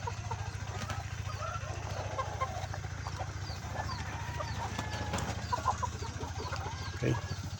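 Egg-laying hens cluck softly and repeatedly on a farm, with one louder call near the end, over a faint steady background hum.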